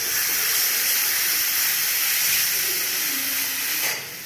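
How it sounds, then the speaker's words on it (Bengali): Hot water poured into a pan of fish curry with potato and pointed gourd, a loud sustained steam hiss filling the whole stretch before easing off at the end, no voices. "জল রেডি করা আছে গরম জল ঢেলে দিচ্ছি"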